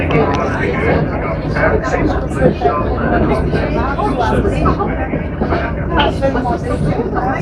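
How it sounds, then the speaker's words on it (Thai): A Rigi mountain railway train in Switzerland climbs slowly uphill. A steady, loud rumble and rattle runs throughout, with voices chattering over it. "รถขึ้นเขาช้ามากนะครับ ค่อยๆขึ้น ค่อยๆขึ้นนะครับ รถราง นั่งรถราง"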